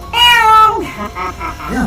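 A cat lets out a loud, drawn-out meow up close, followed by a few shorter, softer mews.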